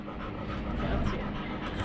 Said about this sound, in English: We got a Navy dog here.